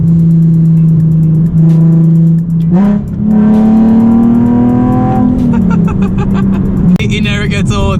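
A Nissan 370Z engine revs hard and climbs in pitch, then eases off, loud and close, with sharp exhaust pops near the end.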